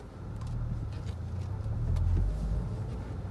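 A 2013 Honda Civic Si Coupe reversing, its engine a steady low hum with road and cabin rumble that swells slightly midway, heard from inside without speech.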